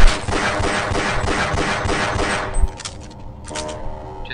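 Rapid pistol shots from Half-Life fire in a fast, loud run of cracks, then stop and leave a short, fading tail with a few softer mechanical clanks.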